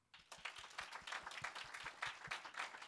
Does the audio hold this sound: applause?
yes